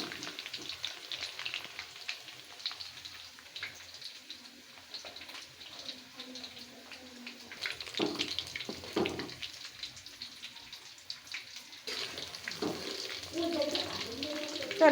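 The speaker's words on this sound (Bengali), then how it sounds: "মাংসটা এখানে আমার মুচমুচে করে ভাজা হয়ে গেছে।" Meat frying crisp in hot oil in a pan, a steady close sizzle running throughout with brief louder bursts of bubbling and stirring toward the middle and end.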